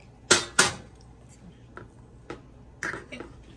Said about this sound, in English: And let me cut me a piece of steak.